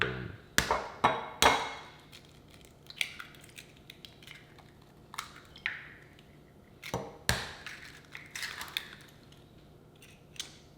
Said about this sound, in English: So we can crack those 4 eggs.